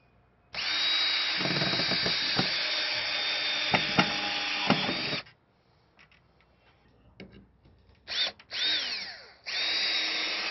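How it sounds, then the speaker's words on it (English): Power drill driving screws into a platform inside a Sprinter van, a long loud whirring run, then brief pauses and short bursts, ending with another sustained spin. "I'm going to see if I can secure it with these screws"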